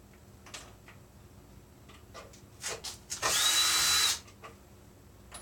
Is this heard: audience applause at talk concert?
no